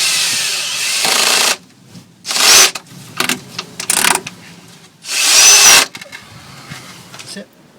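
Screws are driven with a power drill to attach a hinge to a wooden compost bin door: several loud whirring bursts of about a second each, separated by quieter handling clicks and rubbing.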